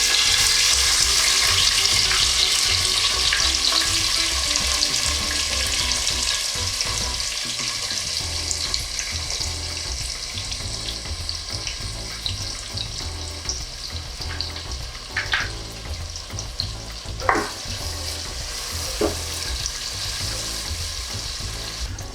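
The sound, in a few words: onions frying with cinnamon, cloves and cardamom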